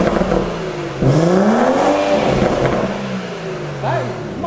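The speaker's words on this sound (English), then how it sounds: "Let's see what it's going to sound like with just the sports cat." A BMW M140i with a sports catalytic converter revs loudly nearby, with a sharp blip that swells and falls away, followed by a second quicker rev and burbling exhaust over a steady idle.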